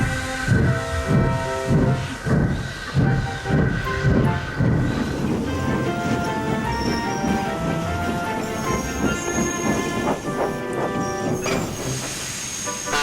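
Rhythmic chuffing of a steam engine hauling passenger coaches away from a station, loud and steady, with a regular puffing beat at first that blends into continuous rumble and clanking.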